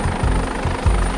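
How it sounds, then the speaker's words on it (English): A rescue medevac helicopter approaches a hospital helipad, its rotor chopping loud and close in a steady, throbbing rhythm, with no voices. "As the rescue chopper approaches the helipad, hospital staff are waiting for Daniel."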